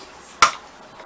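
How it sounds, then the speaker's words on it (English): A can of coconut milk is punched open in a home kitchen, giving one sharp metallic pop followed by a brief fading hiss, alone against quiet room tone. "I'm gonna open the can Renegade style"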